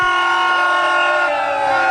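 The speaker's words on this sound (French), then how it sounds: "des coups de sifflet" A loud, sustained whistle blast rings out steadily amid a street celebration over exam results in Kinshasa, the shrill tone holding unbroken through the whole moment.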